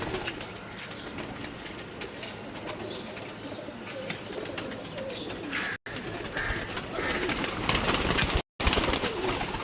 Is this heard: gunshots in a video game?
no